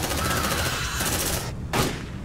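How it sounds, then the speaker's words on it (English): Suppressive gunfire in the sci-fi video game Alien Dark Descent, a continuous loud rattle of rapid shots that breaks off briefly near the end before resuming in a heavier burst. "Suppressive fire!"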